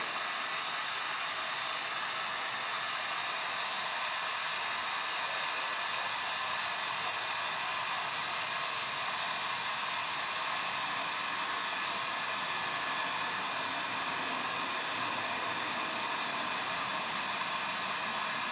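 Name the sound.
heat gun or hair dryer warming car emblem adhesive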